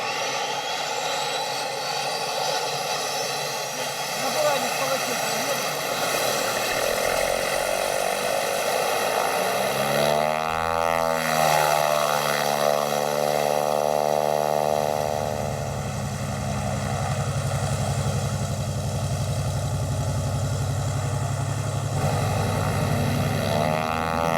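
Airplane in flight heard from inside the cabin on a long-haul polar expedition flight, a steady loud engine drone with broadband roar throughout and a shifting tonal whine midway, no talk.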